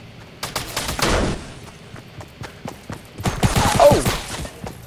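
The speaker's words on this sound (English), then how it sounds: "I gotta be able to shoot a gun." Rapid bursts of gunfire from a video game crackle in two dense clusters, the second louder and more sustained, with scattered single shots between them and no talking.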